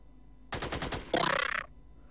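Gunfire in the strategy game Xenonauts: a rapid burst of about six sharp shots, followed by a louder crackling energy-like blast lasting about half a second, over a quiet background.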